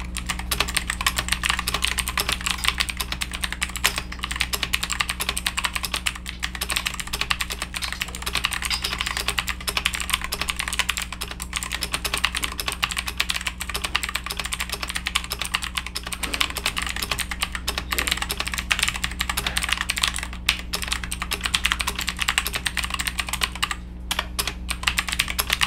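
Rapid, continuous typing on a ZIYOULANG K3 full-size mechanical keyboard, dense clicky keystrokes close up over a steady low hum, with no talking.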